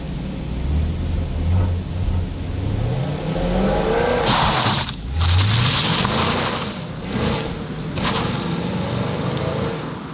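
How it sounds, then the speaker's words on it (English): A 2020 Chevrolet Camaro SS accelerates hard past an outside listener, its engine revving loudly through rising sweeps with brief gaps at gear changes, no voices. "here is that acceleration test, a quick view from outside of the Camaro"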